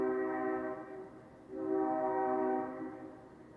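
A train horn sounds in two sustained, harmonically rich blasts separated by a brief dip, fairly faint and steady, with no talk over it.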